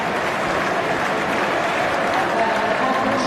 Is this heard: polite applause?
yes